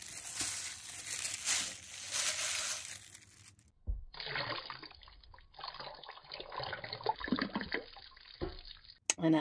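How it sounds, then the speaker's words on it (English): Water pours and splashes into a crock pot holding cut-up pork shoulder, preceded by rustling and crinkling, with a faint trickle continuing throughout. "And I added some water to it"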